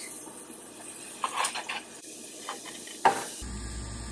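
Onions and green onions sizzle in melted butter in a pan, a soft steady hiss broken by a few short stirring scrapes, with a brighter burst of frying noise near the end.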